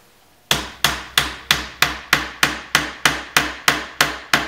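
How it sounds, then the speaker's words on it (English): Steady, evenly spaced hammer blows drive a nail into wood on a shop table while framing a canvas, about a dozen sharp strikes in a regular rhythm, loud and close, each ringing briefly before the next. "Every time I struck the nail with a hammer"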